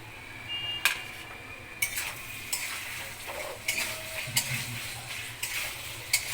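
Chopped tomato and spices sizzling in a pan over a gas flame, a steady close fry punctuated by repeated sharp scraping clinks of a spatula stirring roughly every second, with no talk.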